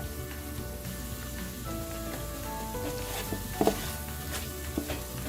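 Jumbo shrimp frying in green chilli sauce in a pan, a steady soft sizzle running throughout with a few louder crackles and spits near the end, no voices.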